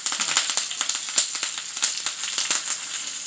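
Curry leaves crackle and spit in hot oil with mustard seeds and sliced green chillies for a raw-mango pachadi tempering, a bright close sizzle full of rapid irregular pops.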